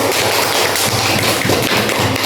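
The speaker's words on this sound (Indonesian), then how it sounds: "berikan tepuk tangan dulu yuk." Pupils in a coding and artificial intelligence class give a round of applause, a dense, loud, continuous burst of clapping that fills the room for a couple of seconds.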